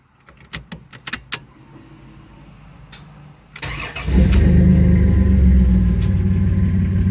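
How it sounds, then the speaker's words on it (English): Keys jingle and a few clicks, then a car engine cranks and catches around four seconds in, settling into a loud, steady idle close by. "I just gotta grab the key, start it, and we'll go drive it."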